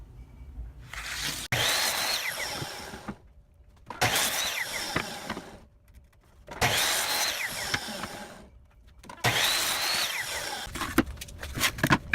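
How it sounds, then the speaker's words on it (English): A miter saw cutting wood for a rustic picture frame, four loud whining cuts about two seconds long, each followed by a short quieter gap, heard up close. "miter saw."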